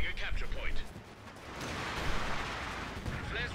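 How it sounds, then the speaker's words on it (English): Heavy artillery barrage in the strategy game Company of Heroes 2, loud booming blasts and rumbling impacts rolling through the clip, with a voice talking over the first part. "Anytime with the artillery."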